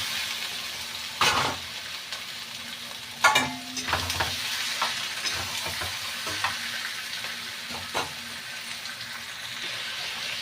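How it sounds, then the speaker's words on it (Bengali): Chicken frying in oil in a pan gives a steady close sizzle, with a few sharper bursts and stirring scrapes as pieces move; no talk. "এখন আমি দিচ্ছি চিকেন দিয়ে অল্প ভাজা ভাজা করে নিচ্ছি"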